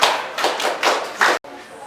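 Classroom of students clapping for a classmate in a physics lesson, a few loud uneven bursts of hand claps, close by, ending abruptly.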